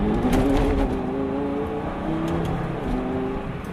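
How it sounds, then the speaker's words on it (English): A Lamborghini Gallardo's engine revs hard while its tires whine and spin in snow, a continuous roaring drone with rising and falling pitch, close by. "Barely any throttle at all, and the tires spin."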